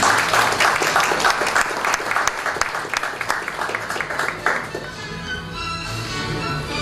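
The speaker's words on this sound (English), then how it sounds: "A round of applause, please." Audience applause at a government prize ceremony, loud and dense at first, then thinning and fading over the last couple of seconds into room murmur.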